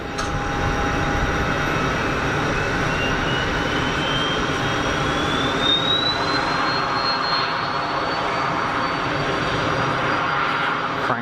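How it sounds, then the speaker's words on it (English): Cessna Citation business jet at Geneva Airport, a loud, sustained engine roar with a rising high whine sweeping upward, steady and fairly close, with no voices. "So that looks like a citation to me."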